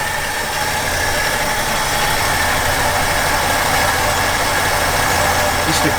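A 1966 Ford Galaxie 500 engine idles quietly and evenly, a low steady rumble with a faint knocking pulse under a broad hiss, no talk over it.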